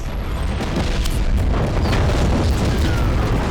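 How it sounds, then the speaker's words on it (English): In the video game Just Cause 3, wind turbines blow up with planted explosives: a continuous loud, rumbling blast roar that fills the whole stretch, dense and heavy, with no voices. "she can blow them all up at the same time in one big explosion"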